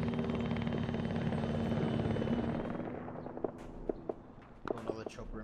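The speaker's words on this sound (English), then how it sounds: "Another chopper inbound." A military helicopter in Arma 3 approaches with a thick, steady rotor drone. The drone fades as sharp distant pops and thuds of combat break through toward the end.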